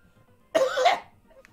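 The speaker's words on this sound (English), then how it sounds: "That's how you win the game, kids. You just cough up your lung." A single harsh cough with a throat-clearing rasp, close and fairly loud, bursting out after silence and trailing off quickly.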